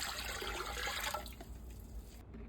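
Water poured steadily into a large stock pot already holding white vinegar, a close, continuous splashing stream that runs for about two seconds and then stops abruptly.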